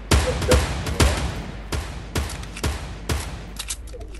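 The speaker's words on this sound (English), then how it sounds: "I'm just taking shots at people." Several sharp gunshots crack out one after another in the Fortnite video game, spaced unevenly across a few seconds and fading to quieter pops near the end.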